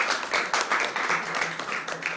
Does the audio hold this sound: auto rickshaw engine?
no